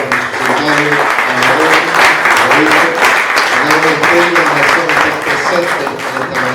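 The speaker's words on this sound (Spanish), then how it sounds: "Me doy un aplauso a nuestro secretario" A room of evangelical pastors applauds the undersecretary of the Interior at a meeting on security, with sustained, loud clapping throughout and voices talking over it.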